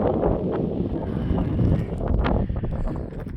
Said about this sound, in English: It's got a little bit windy up here.